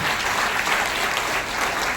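An audience claps loudly and steadily to welcome an army colonel seated among them, a dense, continuous burst of applause filling the whole moment with no break.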